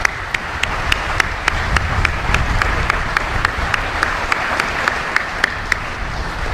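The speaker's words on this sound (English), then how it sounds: "So please join me now in a round of applause." A crowd at a U.S. Indo-Pacific Command change of command ceremony applauds steadily, a dense wash of clapping with a few sharper claps standing out, loud and sustained throughout.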